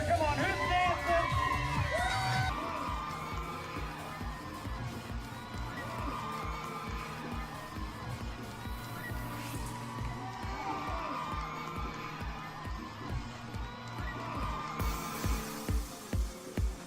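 Crowd cheering and shouting in the stands at a high school baseball game, distant and fairly faint, with scattered whoops and a bright burst of noise rising near the end.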